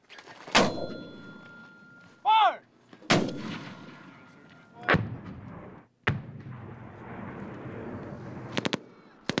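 Mortar fire booms during a live-ammunition military exercise, several heavy blasts spaced seconds apart, some near and sharp, others duller, with rolling echoes and a faint whistling rush between shots.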